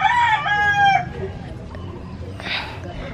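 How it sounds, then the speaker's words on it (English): A rooster crows loudly in a chicken house in the rural Philippine province, its long harmonic call filling the first second before trailing off, followed by faint farmyard background noise and a brief rustle. "They have a chicken."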